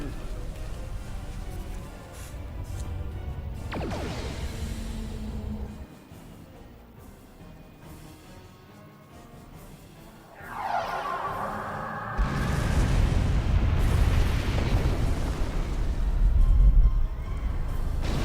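Starship weapons fire and explosion hits in the Star Trek Online video game: sweeping whooshes and a descending energy blast, then a heavy rumbling impact that stays loud and sustained, with talk heard in places.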